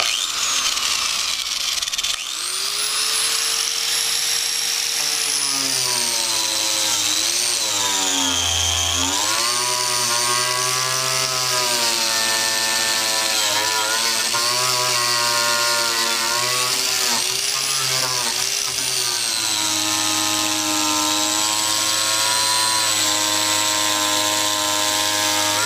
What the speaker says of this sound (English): I'm gonna be using a wire wheel with my grinder.